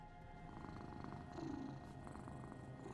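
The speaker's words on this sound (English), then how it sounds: "Listen to that purr." Soft, steady purring from a cat in a video game cat cafe, faint and continuous with a gentle rhythmic rumble and no talking.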